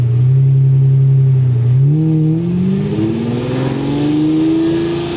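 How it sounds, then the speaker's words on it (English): A car engine revving hard as a first-time driver presses the gas, a loud droning tone that dips then climbs steadily in pitch over several seconds, close and unbroken. "can just hit the gas and just rev the engine kind of loud"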